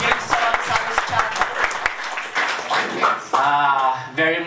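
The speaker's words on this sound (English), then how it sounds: "Let's give a warm of applause" Audience at a business presentation claps in a loud burst of applause that thins out over a few seconds, with voices rising over the end of it.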